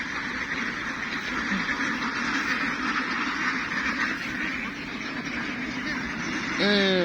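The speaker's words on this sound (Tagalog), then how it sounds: "Ikutan po natin tong itik natin." A flock of itik ducks quack and chatter continuously nearby in a dense overlapping chorus, with one louder, clearer quack close by at the end.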